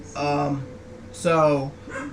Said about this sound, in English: I'm sorry the dog's barking